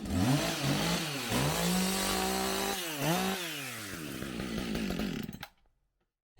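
Chainsaw at a DIY container workshop, loud and close, revving up and down several times in uneven bursts before cutting off abruptly into near silence.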